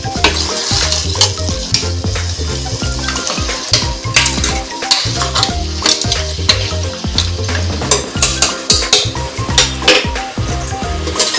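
Natti-style mutton sambar masala is stirred in a pan, sizzling and frying up close while the spoon scrapes and clinks against the metal in a steady, repeated rhythm, with no talking.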